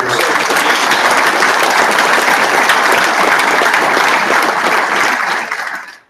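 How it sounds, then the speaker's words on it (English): A large audience applauds a Korean War veteran at a military promotion ceremony, a dense, steady roar of clapping that holds for several seconds before fading out at the end. "let's give him a round of applause"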